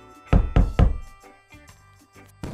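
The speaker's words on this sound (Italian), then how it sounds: "Bussa alla porta!" Knocking on a castle door, three loud, heavy thuds in quick succession, followed by softer, duller knocks that trail off, close and alone without talk.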